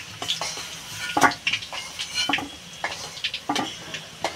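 Fried potatoes lifted out of hot oil in a pan, with scattered metal scrapes and clinks of a utensil over a low, steady sizzle, close and moderately loud, no talking.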